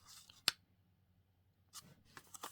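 Scissors cutting a paper fairy figure for a junk journal page: one sharp near snip, a pause, then a few quicker, softer snips, heard quietly with no talking.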